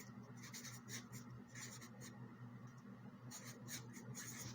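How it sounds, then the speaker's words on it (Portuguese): Faint scratchy strokes of handwriting formulas, soft intermittent scrapes in short bursts over a steady low hum, quiet and close. "Vou escrever aqui."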